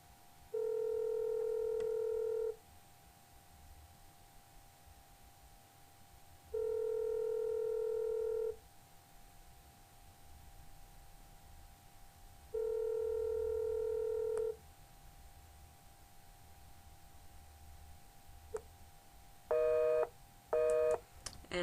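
A landline telephone dials a number that turns out to be disconnected: three long, evenly spaced intercept tones sound clearly, then quick touch-tone dialing beeps come near the end, all over faint line hiss with no talking.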